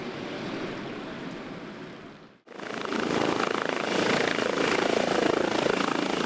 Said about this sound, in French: Aujourd'hui, l'hélicoptère de la gendarmerie dernière génération vient de Rennes, à 130 km d'ici.